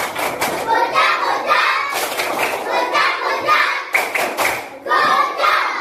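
A class of children performs the tepuk gojak clapping routine, loud rhythmic bursts of claps and thumps in repeated phrases with short gaps, mixed with young voices chanting along.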